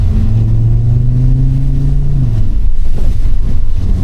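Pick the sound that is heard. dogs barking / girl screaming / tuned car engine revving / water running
tuned car engine revving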